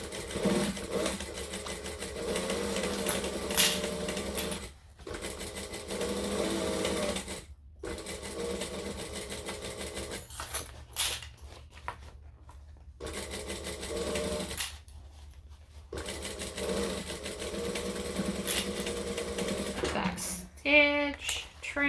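A sewing machine stitches a book bag backpack in several steady, rapid bursts separated by short pauses, close and clear, with a voice talking quietly in places.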